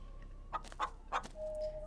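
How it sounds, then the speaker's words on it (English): A few soft, weak chicken clucks from a nearby bush in the video game Scarlet Hollow, three short close calls in quick succession over a low hum. "As you approach, a series of weak clucks calls out from a nearby bush."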